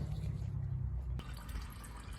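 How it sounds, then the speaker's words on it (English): A steady, low rushing pour of engine oil draining from a tractor into a pan, a continuous stream splashing into the container, close and constant throughout. "And now the oil's flowing right into the pan."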